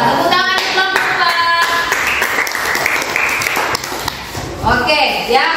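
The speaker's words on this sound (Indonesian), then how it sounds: "Tepuk tangan kelompok" Classroom groups of students clap their hands together in a lively burst during a religious education lesson, with voices calling out over the clapping and a brief chant-like voice near the end.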